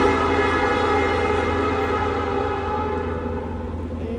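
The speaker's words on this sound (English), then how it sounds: "And that's a train." A train passes near a fishing spot, a steady, loud broadband rumble with sustained tonal hum, holding level before easing slightly toward the end, with no talk over it.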